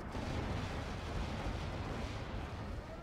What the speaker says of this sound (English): Off go a bunch of bombs. Off go a bunch more bombs.